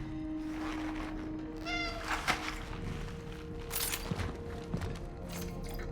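Cats meow repeatedly in Cronos: The New Dawn, a horror video game, against a steady hum of game ambience, with several mid-level calls spread across the moment and no talk over them.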